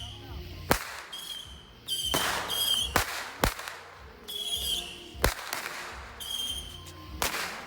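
Fireworks going off outdoors: a series of loud sharp bangs and crackling pops at irregular intervals, some with whistling crackle, heard close and clear.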